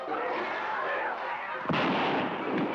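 Gunfire in the Zomboo video game sounds as a sustained rattling barrage, and a sharp loud burst near the end kicks up a fresh blast of noise.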